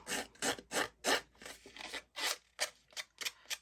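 Rhythmic rasping strokes of scissors roughing up the edges of a deer-shaped craft piece, about ten short scrapes in a steady back-and-forth pattern, close and fairly quiet with no talking.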